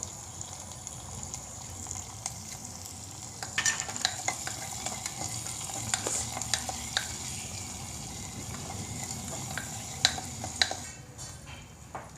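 Tomatoes and onions sautéing in a clay pot (mann chatti), with a steady soft sizzle, stirring scrapes and occasional clinks of a spoon against the pot, close and continuous throughout.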